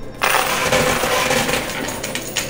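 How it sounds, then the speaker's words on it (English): Dice tumble and clatter inside a high-limit quarter coin pusher machine, a continuous loud rattling of hard pieces against the machine's interior lasting a couple of seconds. "We're the only ones that roll it inside the machine."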